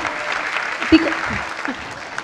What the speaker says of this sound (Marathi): या छोट्याशा माहीला जोरदार टाळ्या परत एकदा